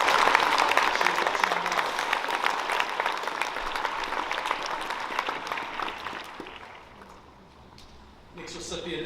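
A school prize-giving audience claps steadily for several seconds, the applause thinning and dying away, before a voice begins speaking at the end.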